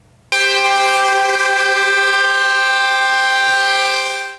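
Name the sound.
dump truck horns sounding a ceremonial greeting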